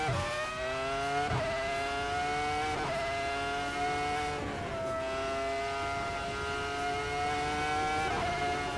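A Volvo in the Assetto Corsa racing game accelerates hard, its engine note climbing through repeated rising sweeps with brief dips at each gear change, loud and continuous with no voices.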